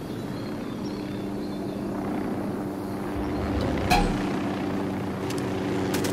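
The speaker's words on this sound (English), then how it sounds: "Helicopter inbound." A steady, low mechanical rumble of a helicopter's rotor and engine in the video game Ghost Recon Wildlands holds throughout, with a brief sharp metallic clank partway through.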